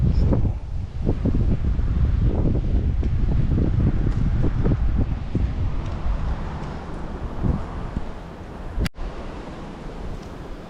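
A strong wind of about 25 miles an hour roars across the microphone at a lakeside dock in continuous buffeting gusts. The roar eases slightly toward the end, and a single sharp click stands out near the close.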